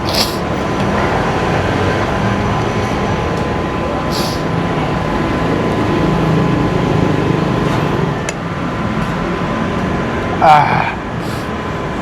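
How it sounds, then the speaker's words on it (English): A steady mechanical hum and whir from an air conditioning system runs throughout, with a faint tone and occasional small clicks in the background. "If you hear a buzzing sound, that's the air conditioning system"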